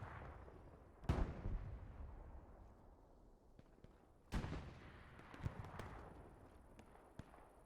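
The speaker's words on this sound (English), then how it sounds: "Here's a loud grenade." Two loud, sharp blasts from a World War I game set at the Battle of Tannenberg, each with a rumbling decay, against quieter scattered distant gunfire.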